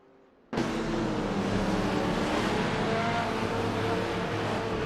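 GTR race cars at the Mugello circuit in a racing video game. After a brief quiet start, a dense, sustained engine roar suddenly comes in and holds at a steady, loud level to the end, with no voices.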